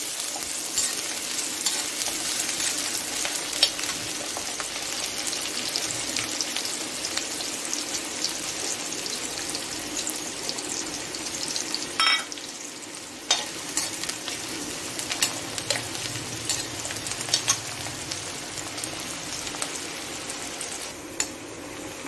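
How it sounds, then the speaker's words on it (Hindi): Onions frying in about two spoons of hot oil in a pan, a continuous bright sizzle with scattered crackles and a few utensil clinks, close and steady with no speech. "अब इसमें प्याज डाल देंगे।"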